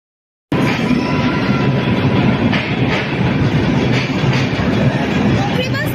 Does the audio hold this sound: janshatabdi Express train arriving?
yes